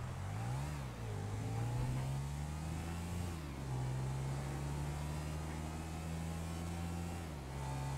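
A motorcycle engine in a video game drones steadily near and loud, pitch rising and dipping with throttle changes as the bike rides along, with no voices.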